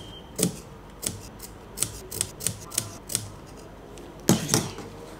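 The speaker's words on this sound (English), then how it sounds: "I'm just going to cut right on the edge. Just cut it like this." Scissors snip along the edge of fabric for a handmade butterfly hair bow, about ten short crisp cuts in an uneven rhythm, close and clear with no talking.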